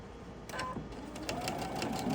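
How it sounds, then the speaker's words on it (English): A sewing machine stitches fabric in a short, steady run of rapid mechanical clatter, close and fairly loud, with no talking. "My machine does not like the foot here to go over the needle."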